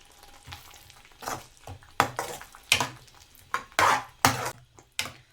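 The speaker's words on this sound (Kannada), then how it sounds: "ಸೊ ಮಸಾಲೆ ಎಲ್ಲ ಹಾಕಿದ್ಮೇಲೆ ಹೀಗೆ ಮಿಕ್ಸ್ ಮಾಡಿ ಚೆನ್ನಾಗಿ ಎಲ್ಲ ಹೊಂದ್ಕೊಳ್ಳೋ ಥರ" Chole masala spices stirred in a frying pan with a spoon, giving repeated scraping and clattering bursts over a low sizzle, close and fairly loud, with no talk.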